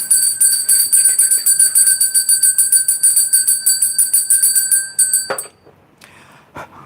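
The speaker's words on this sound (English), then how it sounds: "I'm just going to ring the bell" A high, bright bell rings rapidly and repeatedly in a fast, even trill for about five seconds, loud and close, then stops, leaving a few faint clicks and handling noises.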